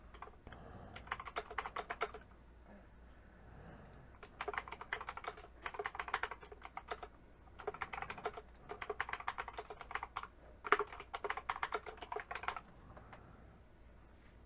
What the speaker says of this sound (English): type ourselves a nifty title